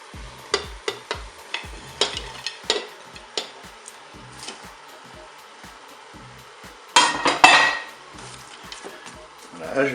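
Chicken with mushrooms and green beans cooks in a Cookeo multicooker, with a utensil stirring and scraping the pot in irregular knocks over a faint sizzle, then a louder burst of frying near the end.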